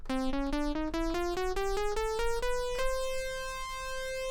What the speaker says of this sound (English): A chromatic scale is made up of only semitones and sounds like this.